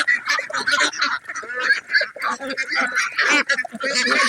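A flock of farm ducks quack and honk continuously and close by in a rural setting, loud overlapping calls with no clear pauses.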